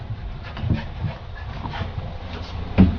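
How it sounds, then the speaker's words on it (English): Dogs pant steadily nearby, quick rhythmic breaths with a faint whimper and a short thump near the end. "We're full of dogs here."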